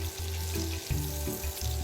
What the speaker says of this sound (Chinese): 先将虾米爆香。